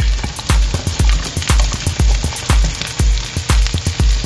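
Chicken pieces hitting a pan of garlic sizzle loudly and steadily, with rhythmic scraping strokes of stirring repeating throughout.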